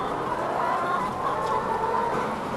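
Hens in a battery cage farm cluck and murmur continuously, a dense layered chorus of many birds close by and fairly loud, with no voices over it.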